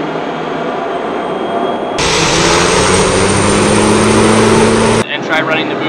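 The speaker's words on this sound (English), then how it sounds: "And then I'm going to increase power on the engine." A turboprop aircraft engine, with the condition lever moved from ground idle to flight idle, surges to a louder steady roar with a rising whine, holds for three seconds, then cuts back abruptly.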